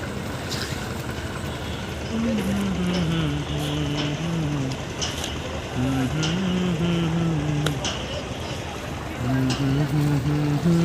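A ferry's engine runs steadily at Nawapara ferry ghat, a continuous low rumble with water splashing against the hull throughout, while someone speaks over it in intermittent stretches.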